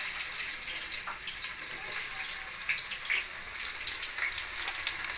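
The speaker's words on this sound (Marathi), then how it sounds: "आपलं तेल तापलेलं आहे बघा मी लसूण टाकते टाकू आपण कांदा टाकून" Garlic and onion fry in hot oil, producing a dense, steady hissing sizzle close by, with faint occasional stirring taps and no one speaking.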